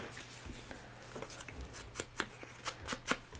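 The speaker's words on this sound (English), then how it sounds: "keep that in mind when you're ripping your paper" Paper torn slowly along an edge by hand gives a soft, irregular ripping crackle with scattered sharper snaps growing slightly louder toward the end, close and quiet.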